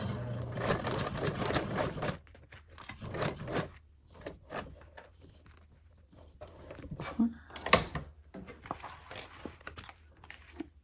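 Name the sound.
sewing machine sewing across a toiletry bag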